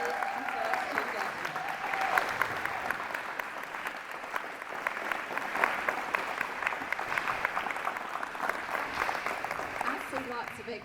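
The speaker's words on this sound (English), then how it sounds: "I think we need to give them a huge round of applause because they just outdid themselves today" Sustained applause for students at a school biography day event, dense steady clapping from an audience lasting throughout, with a few voices mixed into the crowd.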